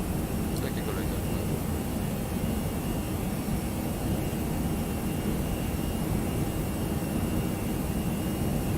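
An American Airlines A319 departing St. Martin in the X-Plane 11 flight simulator gives a constant, dense roar of jet engines that stays loud and even throughout.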